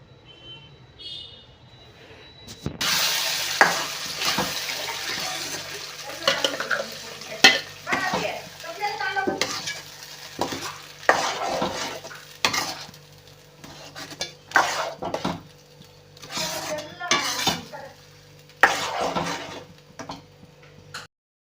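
Ground masala sizzles in a pan as a spoon stirs and knocks against the metal in repeated scraping strokes, close and moderately loud over a steady frying hiss.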